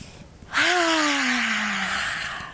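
A deep, audible breath taken during a guided tapping exercise: one long, close draw of air that swells quickly and carries a faint voiced tone sliding lower as it fades, heard alone.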